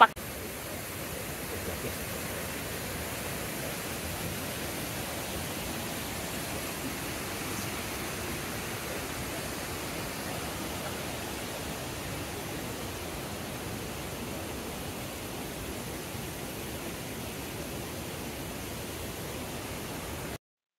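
Devil's Bridge Waterfall roars as a steady, broad rush of falling water heard from a viewing path, constant and unbroken with no clear voices.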